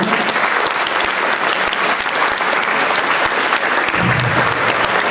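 Sustained, dense applause from the audience at a Hindi comic poetry gathering (kavi sammelan), steady and loud throughout with no speech over it.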